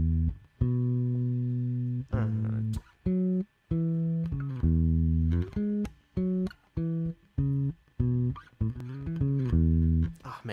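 A rock bass line plays from a recording, with punchy, loud staccato notes in a choppy rhythm separated by short gaps.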